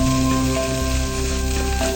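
Cooked rice hits a hot pan for spicy Thai fried rice, setting off a steady close sizzle with a faint crackle that holds evenly throughout, under a low constant hum and with no voices.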